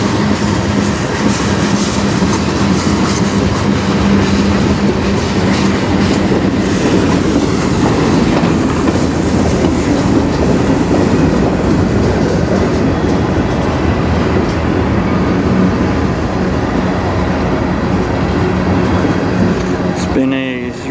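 A CN freight train rolls past close by in Sarnia, Ontario, a loud, continuous rumble of wheels and cars with rhythmic clickety-clack over the rail joints and a brief squeal near the end.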